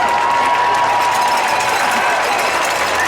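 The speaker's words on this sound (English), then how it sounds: "Give yourselves a round of applause." A crowd at a high school football game, Hamilton Huskies against Chandler Wolves, claps and cheers in a loud, continuous wash of applause with a faint tone running beneath it.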